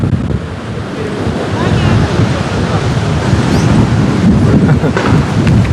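Stormy sea waves crash and roll steadily on a beach at Anapa while strong wind buffets the microphone, a dense continuous roar with no voices.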